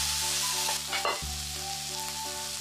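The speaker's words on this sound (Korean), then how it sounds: "썰어놓은 꽈리고추와 당근을 넣고 꽃소금 2꼬집을 뿌려 색감은 살리고 밑간을 살짝 하는 의미로 살짝 볶아줍니다" Shishito peppers and carrots with a pinch of salt sizzle steadily in a pan while a utensil scrapes and stirs them, close and continuous.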